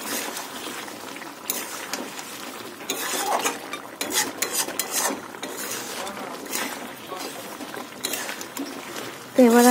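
Sugar being stirred into restaurant-style rezala in a pot, heard as close, steady scraping and clinking of a spoon against metal, with a simmering sizzle underneath.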